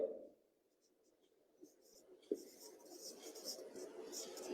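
Faint scratchy strokes of writing on a board during a math lesson on trigonometry, soft intermittent marks growing busier toward the end, with quiet low speech and a couple of small knocks.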